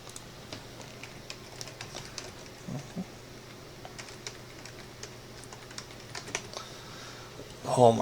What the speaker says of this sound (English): I'm horrible at typing.